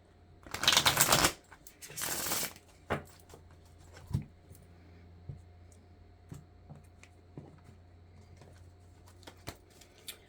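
Two quick riffling bursts of a deck being shuffled, followed by soft scattered clicks and taps of cards being handled in a quiet room.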